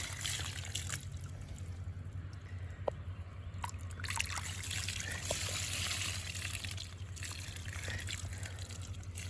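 Steady running water pours continuously at a moderate level into a wild game washer bucket, with a low constant hum beneath and a few faint clicks and knocks.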